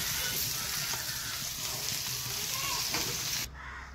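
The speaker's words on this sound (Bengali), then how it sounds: "এই বন্ধুরা, আমার কপিগুলো ভাজা হয়ে গেছে, আমি নামিয়ে দেব।" Cabbage pieces fry in oil in a pan with a dense, close, steady sizzle and faint stirring. The sizzle cuts off abruptly just before the end, leaving a low hum.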